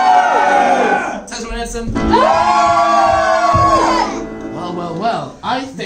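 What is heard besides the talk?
audience cheering for Tesla and Edison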